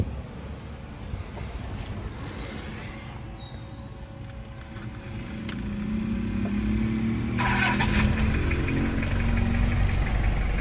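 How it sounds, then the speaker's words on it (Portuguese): 2009 Toyota Hilux engine cranking and catching, settling into a low diesel-like rumble that grows louder and rougher as it runs, heard fairly close. "Mas agora ligar o motor aqui pra você ver."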